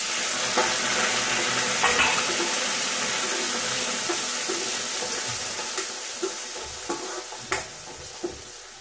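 Steady sizzling and frying in a pan as tomatoes go in with green chillies cooking over low gas for an aloo gajar dish, with occasional stirring clinks and scrapes throughout and no talking.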